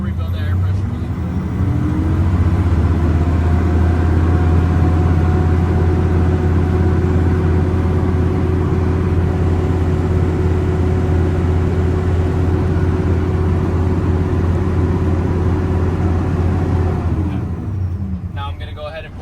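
A truck engine idles steadily to rebuild air pressure, a loud, low, even rumble with a constant drone that runs nearly unchanged for the whole stretch before easing slightly near the end.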